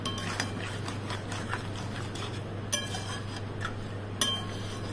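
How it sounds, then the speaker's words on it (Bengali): Chicken and potato curry stirred in a pot with a utensil, light irregular clinks and scrapes of metal against the pot over a steady low hum. "ভালো করে নেড়ে দিলাম।"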